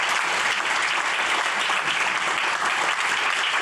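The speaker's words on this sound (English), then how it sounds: "If everyone could help me with a charitable round of applause" Steady, dense applause from an audience at a memorial brunch, continuous clapping filling the room without pause or voices rising above it.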